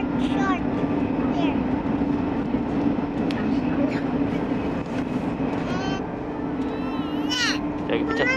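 A subway train in South Korea rumbles steadily with a low hum and rattling, while people talk over the noise and faint squeals rise near the end.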